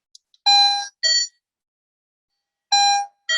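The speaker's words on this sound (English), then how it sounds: "I have this portable doorbell with me." A portable wireless doorbell chimes in two clear bursts, a two-tone ding-dong followed by a pause and then the chime starting again, loud and close with nothing else around it.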